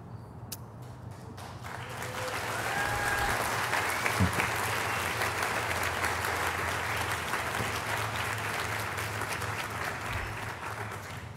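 Sustained audience applause at a graduation ceremony, a dense steady wash of many hands clapping that swells after a couple of seconds and holds loud for the rest of the stretch, with a few faint voices underneath.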